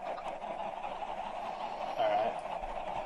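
Cartoonish chickens clucking and squawking from a chicken bomb in a Wild West building video game, a steady, loud, dense flock-like chatter that continues throughout.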